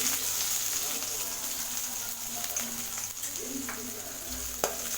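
Chopped onion frying with mustard seeds, cumin and urad dal for beetroot poriyal, giving a steady, close, broadband sizzle with a few light stirring scrapes and no talk.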